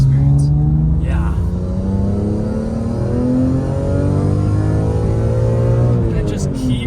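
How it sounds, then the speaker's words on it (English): BMW M3 E46 with catback exhaust and headers revving hard, a loud sustained engine note rising and holding steadily, with talk over it. "And it just keeps revving."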